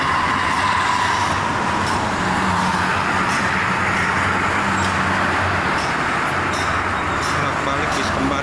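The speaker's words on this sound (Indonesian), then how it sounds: "Ada bis kembar si kuning." Road traffic roars steadily on the Jakarta–Cikampek toll road as twin yellow buses pass by, a dense continuous engine and tyre wash heard close, with someone talking over it.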